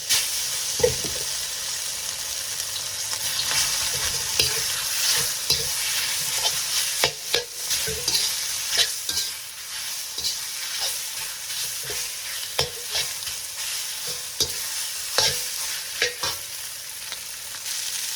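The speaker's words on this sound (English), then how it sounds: "So I'm just gonna stir fry it in batches." Loud sizzling of chicken stir frying in hot oil over a high flame, broken by repeated scraping and clanking of a utensil stirring the pan.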